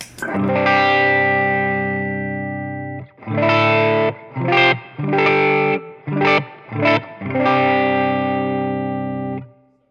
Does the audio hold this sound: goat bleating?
no